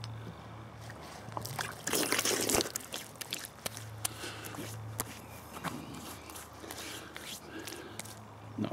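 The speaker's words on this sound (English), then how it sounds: "I'll have a rinse with some water from this bottle here." Water poured from a bottle to rinse after a shave outdoors in a forest, with close splashing, sloshing and trickling in irregular bursts over a faint outdoor background.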